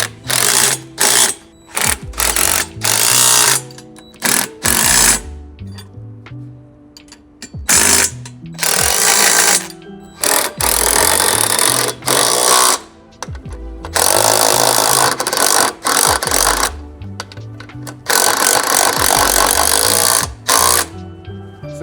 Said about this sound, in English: we're gonna tighten down our 1/2-inch hardware.